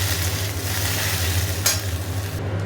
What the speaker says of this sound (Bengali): ঢ্যাঁড়স দিয়ে দিয়েছি আর দুটো লঙ্কা একটু আরও ছিল সেটাও দিয়ে দিয়েছি আর একটু ভাজা ভাজা হোক